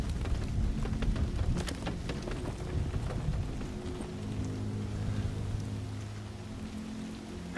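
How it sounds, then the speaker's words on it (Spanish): Rain falls in the virtual reality game The Walking Dead VR: Saints & Sinners, a steady close patter on surfaces with a low rumbling undertone, continuous and fairly loud with no voices. "La primera vez que llueve en el juego"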